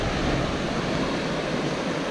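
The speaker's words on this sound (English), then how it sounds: "Lower McCloud Falls on the McCloud River" Lower McCloud Falls on the McCloud River roars as a steady, dense rush of falling water, loud and unbroken, heard close by from the river trail with no voices.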